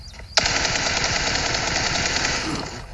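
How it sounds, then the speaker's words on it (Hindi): Automatic gunfire in the PUBG Mobile video game starts abruptly and continues as a loud, rapid, unbroken burst of shots for about two and a half seconds, with no voices. "अब ये बंदा ओपन में खड़ा होके पता नहीं किसके पास ही गोलियाँ चला रहा था"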